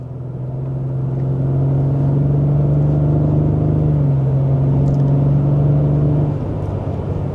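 A 2025 Ford Explorer Active with a 2.3-liter turbo engine is being driven, and a steady low engine drone and road rumble hold at a constant, fairly loud level. It eases slightly near the end.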